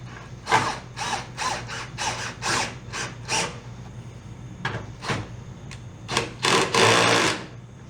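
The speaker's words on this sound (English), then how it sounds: "all I did was drill out the pop rivets, move those down to the last two holes" A power drill bores out pop rivets on an A/C condenser bracket for a Fox Body car, with a series of short, close whirring bursts, a pause, then a longer final run.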